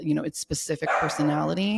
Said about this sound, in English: that's the non-dog trainer's dog that is barking like that